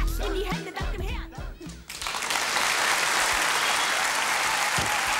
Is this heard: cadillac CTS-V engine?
no